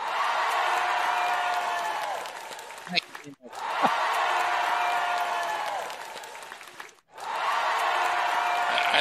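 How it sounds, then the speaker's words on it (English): Studio audience bursts into applause with whoops and cheers, broken by two brief pauses before each new round of clapping, loud and close. "We need some more applause."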